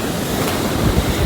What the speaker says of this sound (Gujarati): આપણે દરિયો જોઈ લીધો